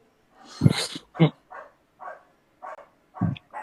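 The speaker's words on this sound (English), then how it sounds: "that's a dog barking on the telly" A small dog yaps and barks several times in short, separated bursts, sounding thin and somewhat distant, as if through a speaker.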